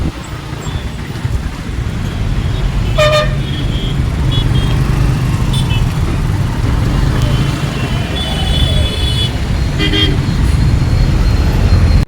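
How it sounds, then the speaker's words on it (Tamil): Busy Madurai road traffic near Avaniyapuram shows steady engine and wind rumble, with several short car horn toots sounding at intervals. "மக்கள் இங்கே பாருங்கள் டிராஃபிக்கு"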